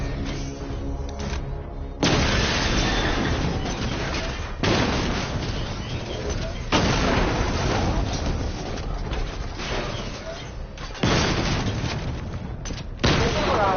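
Missile barrage explosions in Batman Arkham Knight, a dense, continuous roar of blasts and rumbling impacts coming in heavy waves with abrupt shifts, loud and close throughout.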